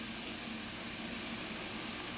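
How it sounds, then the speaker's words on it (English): Red onions, scallions, peppers and fennel stalk sauté in a pan, a soft, even sizzle and crackle that holds steady and close throughout without any talking. "And we're going to let this saute for a bit."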